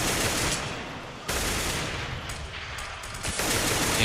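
Gunfire in a CS:GO match at a pro esports semifinal, with dense, loud bursts of rapid automatic fire broken by brief pauses.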